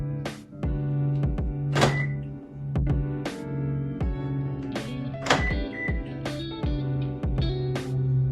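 A car's door locks are engaged, giving a run of sharp mechanical thunks at an uneven pace over a low steady hum, fairly close and with no talking.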